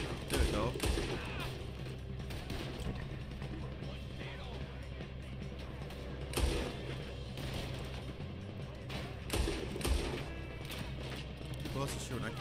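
Gunfire in Red Dead Redemption 2 on PS5, several sharp shots scattered among mechanical clicks and game ambience, with someone talking over parts of it.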